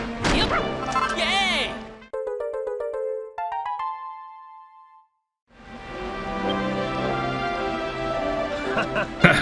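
Hammer strikes smash into the ground in Dragon Quest Builders 2, loud crashing hits with game jingles and chimes ringing out in the middle, then more busy impact noise.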